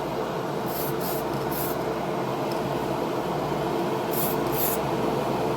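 A rattle can sprays a silver base coat onto a car part in a steady, continuous hiss that stays close and fairly quiet, with no talking.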